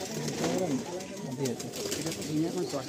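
Teddy pigeons cooing in a loft, with soft repeated coos and throaty warbles layered over one another, close by and steady, while people talk underneath.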